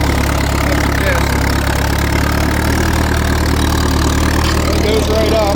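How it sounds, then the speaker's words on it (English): A Case LA tractor with a straight-pipe exhaust runs steadily while pulling a Case disc with the PTO engaged. It gives a loud, continuous, rumbling engine drone that stays near and constant throughout. "Kind of noisy, not just from the straight pipe, but I got to keep the PTO engaged"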